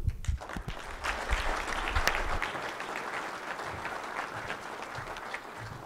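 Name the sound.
audience applause for a panel speaker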